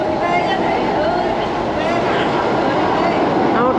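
A DLR train runs on its way to Woolwich Arsenal, its steady loud rumble and faint wheel squeal heard from on board, with a voice talking over it.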